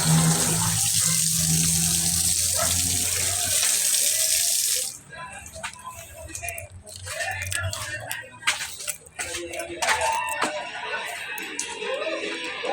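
A laundry faucet fed by an electric water pump runs with a loud, steady hiss of water for several seconds, then cuts off, leaving drips, clatter and a person speaking.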